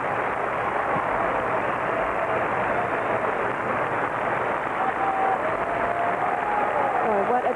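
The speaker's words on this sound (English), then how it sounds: "So far, it's the first and only standing ovation we've had." Standing ovation from an arena crowd after a 1984 Winter Olympic ice dance, a steady dense roar of clapping and cheering that holds loud throughout, with faint voices mixed in.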